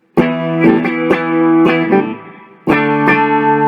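Clean electric guitar power chords, played without distortion, strummed in a steady pattern, each chord ringing out, with a short pause before the final chords resume.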